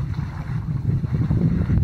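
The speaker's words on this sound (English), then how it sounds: "So we got a sail full of wind" Wind fills the sails of a cruising sailboat under way at about 3 knots, heard as a steady low rumbling buffet of wind with a dull roar from the boat, continuous and close, with no speech.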